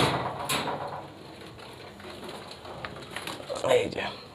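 Pigeons coo softly inside a loft where some birds sit on eggs and chicks, with low murmuring calls coming and going and a slightly louder coo near the end.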